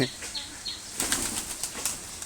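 Pigeons being fed flap their wings in several quick, close bursts, with soft bird calls early on and a faint voice in the background.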